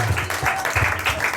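A church congregation claps in praise, a short burst of rhythmic, fairly loud applause with voices mixed in.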